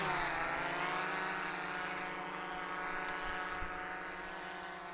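A camera drone climbing overhead near a large stone circle in Scotland: a loud, steady, high-pitched propeller whine that shifts slightly in pitch as it rises, continuous and close with no talking.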